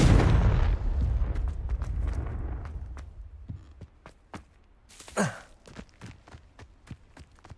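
A Confringo fire spell from Hogwarts Legacy blasts with a loud booming burst that rolls off into a long decaying rumble, followed by scattered sharp clicks, footsteps and a brief whooshing flare of magic.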